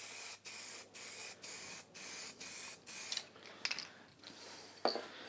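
Spray paint is applied to a wooden bowl laid flat in a series of even, regular bursts, each about half a second long. The bursts give way to softer, irregular hisses and small knocks near the end.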